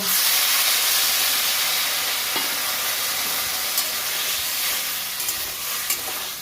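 Water poured into a hot pan of cooking pumpkin sends up a loud, steady hissing sizzle of steam that slowly eases over a few seconds, with faint stirring clicks and no talk.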